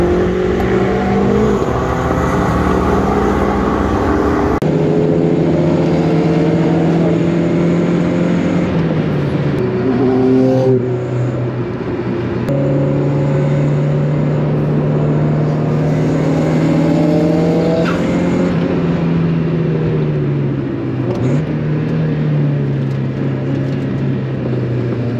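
Wide-body Mazda MX-5 Miata driven hard on a race track, its engine loud and close throughout, revving up and down through repeated gear changes with steady, unbroken drone.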